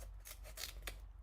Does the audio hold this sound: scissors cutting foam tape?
yes